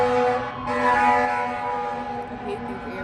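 An ambulance siren sounds along a street, a sustained tonal wail over low traffic rumble that gradually softens as it passes.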